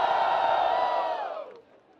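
At a rap battle, a crowd lets out a loud, sustained collective cheer and yell that holds for over a second, then falls off quickly into near quiet.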